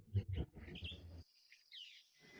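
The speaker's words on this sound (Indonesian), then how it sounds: "Denger-denger nih burung. Rame bener." Birds chirp faintly in an outdoor setting, a few soft high calls and twitters spread over a couple of seconds, with low rustling and background noise underneath.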